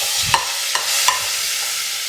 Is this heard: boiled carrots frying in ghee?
yes